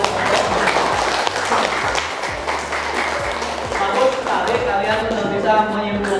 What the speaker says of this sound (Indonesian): Tepuk tangan untuk perwakilan kelompok.